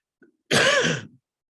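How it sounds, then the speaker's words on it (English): A single rough cough or throat clear from someone with a cold, close and fairly loud, preceded by a faint brief breath. "I got a bit of a cough here, a bit of a cold"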